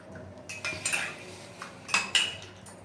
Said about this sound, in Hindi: नमक डाल के मैंने मिला दिया